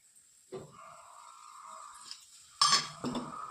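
A spoon stirs raw mango preserve in a pan, giving scattered scraping clinks with a louder burst of metal-on-pan knocks near the end, close and fairly quiet with no talk.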